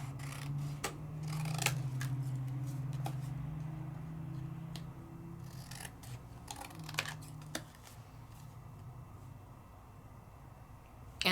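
Scissors trim excess paper to make a card mat. Short crisp snips and rustles come up close and quiet over a low steady hum, without speech.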